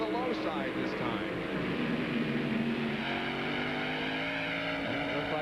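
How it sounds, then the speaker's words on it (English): USAC sprint cars race under the lights at IRP, engines droning and shifting pitch as cars sweep past through the corner, a loud continuous roar with a commentator talking over it. "Robbie Rice a little low coming off the corner, and he just flew by him around the outside"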